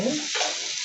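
Cilantro stems are stirred into a sizzling masala pork wet fry, giving a short close burst of scraping and hissing in the pan.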